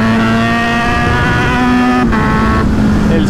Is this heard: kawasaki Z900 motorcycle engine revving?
yes